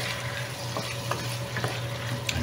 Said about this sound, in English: Let's add our soy sauce and Shaoxing rice wine. Stir these in well